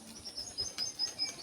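A male Bali pigeon tethered by a string calls in short, repeated chirpy notes, about four or five evenly spaced bursts, faint and slightly distant over a low background hum.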